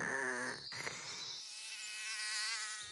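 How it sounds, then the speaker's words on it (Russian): A mosquito buzzes close by in a folk tale. The thin, wavering whine rises and falls steadily for about three seconds, with no talking. "Раптом прилетел комар и укусил дика за хвост."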